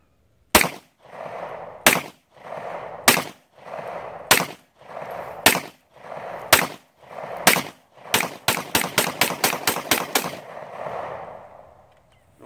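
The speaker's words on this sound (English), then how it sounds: "Man, this is a smooth shooting gun." Shots from a brand-new Ruger Pro-Duty 9mm handgun fired outdoors, loud sharp cracks, first spaced evenly about a second apart, then a rapid string of quicker shots near the end.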